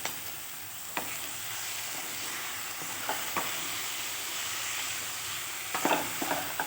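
Cabbage and a spoonful of sugar fry in a pan with a dense, even sizzle throughout, and a few light spatula taps and scrapes stand out near the start and end.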